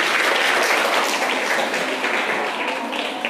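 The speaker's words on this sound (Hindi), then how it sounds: "एक बार तालियां बजा दीजिए सब।" Dense, steady applause from a school audience at a girls' inter college in Dehradun during a Harela event, loud and continuous throughout before tapering slightly.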